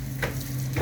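Ghee sizzles on a hot double tandoori paratha, a close, steady frying crackle with a couple of brief louder spits.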